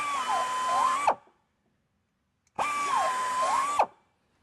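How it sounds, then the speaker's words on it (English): A low-speed buffer with a carbide cutter reams out a tire injury, whining in two separate bursts of about a second each with a steady high pitch that dips briefly as the cutter bites in, with a pause between them. "Using a low-speed buffer and the carbide cutter, we'll go in there and we'll ream the injury out and remove the damage."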